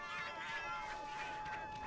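A Palico cat from the Monster Hunter Generations video game meows in a quick run of short wavering calls, close and fairly loud over steady background game noise.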